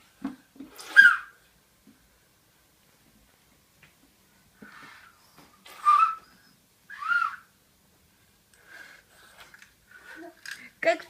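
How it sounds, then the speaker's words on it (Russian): A small child whistles in short, breathy bursts separated by long pauses, faint and close, with adults talking softly around it. "как Федя свистит"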